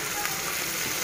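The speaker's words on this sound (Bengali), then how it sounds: "দেখতেছেন, এটি অলরেডি ভুনা হওয়া শুরু হয়ে গিয়েছে।" Cow brain fries in a pan with a short, steady sizzling hiss, close and even, with no talking.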